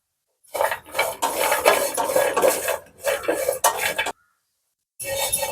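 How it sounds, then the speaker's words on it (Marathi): Dry fruits roasting in a pan over a low gas flame, stirred with a spoon that scrapes and rattles continuously for a few seconds, stops briefly, then resumes, close and loud with no voices. "जरा स्लो गॅसवर आपल्याला भाजून घ्यायचं आहे."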